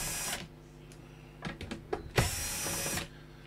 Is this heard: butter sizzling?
no